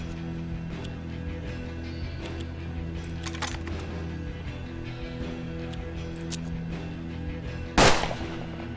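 Gunfire in the turn-based Western video game Hard West, a single sharp, loud shot near the end cutting through a steady low musical drone, preceded by faint clicks.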